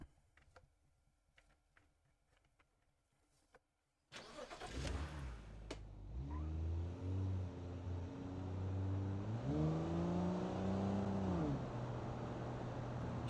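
A car engine in a video game starting, then revving and straining while climbing, with pitch rising, dipping and rising again, preceded by a few quiet ticks and clicks.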